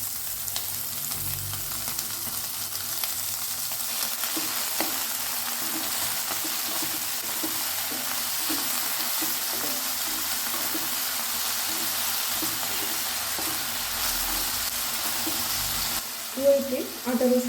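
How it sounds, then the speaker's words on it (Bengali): Chicken mince frying with golden-browned onions in a pan, a steady broadband sizzle with faint stirring, close up, ending with a few louder clatters near the end; nobody speaks. "পেঁয়াজগুলো অল্প গোল্ডেন কালার হয়ে গেলে দিয়ে দিচ্ছি চিকেন কিমা।"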